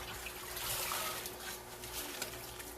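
Collard greens being scrubbed in a sink of salted water give off steady sloshing and trickling splashes, a continuous close wash of moving water with a faint hum underneath and no talking.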